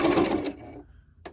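A home sewing machine stitching a zigzag, heard as a loud, close burst of rapid mechanical whirring that cuts off after half a second, followed by quiet and a brief clack.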